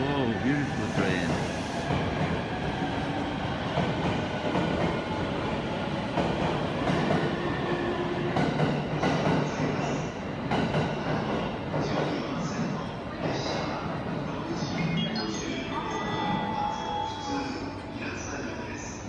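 A train rumbles and clatters steadily past at close range for a long stretch through a Tokyo station, with metallic rattling and a faint squeal, voices and Japanese platform announcements mixed in.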